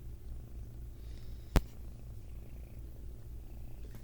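A pet cat purrs close by, a soft low rumbling that runs steadily, broken by a single sharp click partway through.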